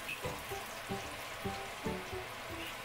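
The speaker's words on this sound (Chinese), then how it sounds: "跟住咧加少少花椒落去嘅，咁啊再爆一爆香佢啦" Garlic and Sichuan peppercorns sizzle steadily in a generous amount of hot oil in a wok, with soft rhythmic scrapes and taps of a spatula stirring them about every half second.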